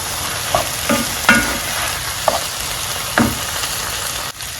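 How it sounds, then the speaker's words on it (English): Coconut curry rice with washed rice being stirred in a frying pan, a spoon scraping and clacking a few times over a steady close sizzle. "We'll go ahead and stir everything in."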